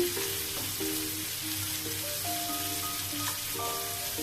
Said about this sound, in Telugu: మ్యాష్ చేసిన పొటాటో వేసానండి. ఇది ఫ్రై చేసుకోవాలి.